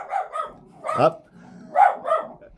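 A pet dog barks in a few short bursts near the microphone, a couple of sharp yips spaced through the moment, while a person speaks briefly over it.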